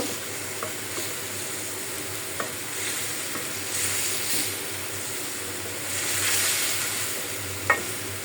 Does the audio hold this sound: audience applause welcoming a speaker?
no